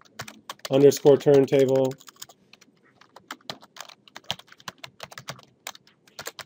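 Keys clatter on a computer keyboard as a folder name is typed in 3D graphics software, a quick run of light close taps following a short burst of speech.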